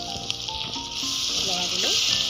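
Ginger garlic paste sizzling in a hot pan with duck, a loud, steady hiss of frying close by, with faint background voices and clinks underneath.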